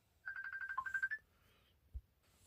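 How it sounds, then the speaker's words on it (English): A phone rings with an incoming call, a short run of bright, repeating electronic ringtone pulses lasting about a second at moderate loudness, followed by a soft thump and quiet room background. "Phone is calling."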